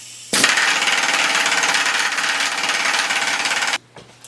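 A Shars impact wrench hammers hard on a bolt in a loud, continuous rattling burst of about three and a half seconds. It cuts off abruptly, followed by a brief faint clatter.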